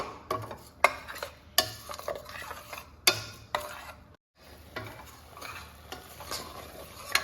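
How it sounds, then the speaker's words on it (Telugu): Garam masala and onion paste fry in a pan for a mango fish curry. The sizzle is faint and broken, with sharp intermittent ladle scrapes and taps and a brief quiet gap. "గరం మసాలాని, ఆనియన్ పేస్ట్ని మంచి స్మెల్ వచ్చేదాకా వేయించుకోవాలి"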